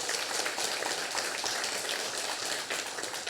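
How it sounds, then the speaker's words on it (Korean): Dense, steady applause from a large audience at a university memorial ceremony in Seoul, a continuous wash of many hands clapping with no single claps standing out, heard alone throughout. "다시 한번 박수 부탁드립니다"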